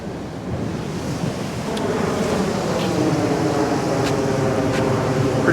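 Surf washes steadily into a rocky cove beside a pier with tide pools, a continuous broad roar of breaking waves with some wind noise, close and fairly loud throughout.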